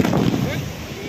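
Firecrackers burst at night on Bapatla beach, a dense, rumbling crackle of blasts with a faint rising whistle, heard from a distance over the wash of surf.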